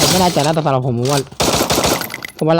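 Rapid gunfire from a shooting video game, drag-to-headshot play, comes as a short burst between stretches of someone talking close to the microphone.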